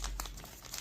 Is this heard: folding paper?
yes